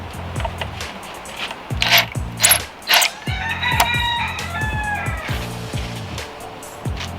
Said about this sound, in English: the first thing we're going to do is take off the clamps, so we can take off the hoses from the piping